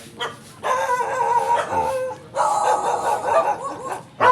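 Pet dogs at a nipa hut bungalow give short barks and yips in two bursts, fairly close, with no talking over them.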